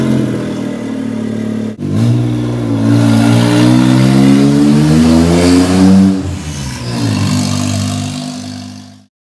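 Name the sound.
modded show car engine revving on test lap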